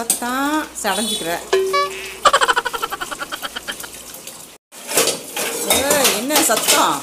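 Metal pots, pans and dishes clatter and clang nearby in a home kitchen, with rapid rattling runs and ringing knocks, a brief silence, then more banging under a woman's chatter.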